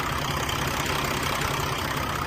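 A 2013 Peterbilt 384 truck engine idles steadily nearby, a constant even diesel rumble with no talk over it.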